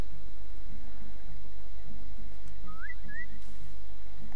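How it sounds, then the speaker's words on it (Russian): Two short rising whistles in Assassin's Creed Freedom Cry, meant to lure a guard, sound faintly over a steady game ambience of low droning music. "На свист он вряд ли поведется."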